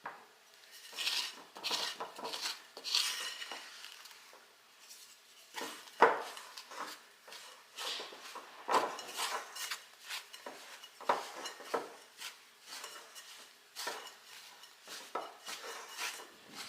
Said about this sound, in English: I think I'm going to switch to a wooden spoon.